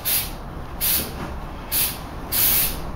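An aerosol spray can coats a go-kart seat with paint in four separate bursts of loud, close hissing, each lasting under a second, with short quiet gaps between them and no talking.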